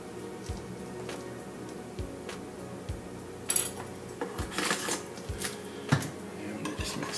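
Grated Parmesan and lasagna ingredients being stirred together in a bowl, with a utensil knocking and scraping against the sides in regular clinks and taps, close and clear, with no talk.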